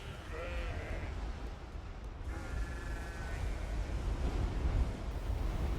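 Sheep bleat in a windy desert herding camp, a few wavering calls at moderate distance over steady wind rumble.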